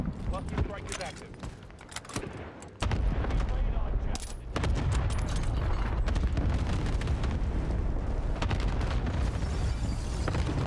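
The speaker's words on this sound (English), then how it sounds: "Cluster strike is active." Cluster strike in Warzone, a battle royale shooter, sets off a long, loud barrage of overlapping booming explosions that rumble on without a break.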